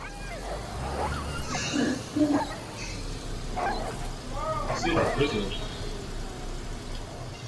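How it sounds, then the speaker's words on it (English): Wolves attacking a car in DayZ on PS4, with several short yelps, snarls and growls coming in bursts close by, partly overlapping as someone talks over them. "I'm getting attacked by wolves in the car."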